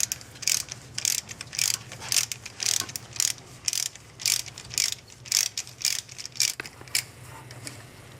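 A ratchet clicks in quick, regular bursts while loosening and spinning out a spark plug on a Chrysler Voyager, each stroke a crisp close-up run of pawl ticks, repeated about a dozen times with brief pauses between.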